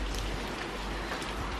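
Steady rain falls on a farm on a grey, cloudy day, making a dense, even, close hiss with no voices over it.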